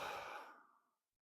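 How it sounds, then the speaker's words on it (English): One long, deep exhale during a gentle breathwork meditation, close and airy, starting full and tapering smoothly into silence. "Take a couple of deep breaths with me."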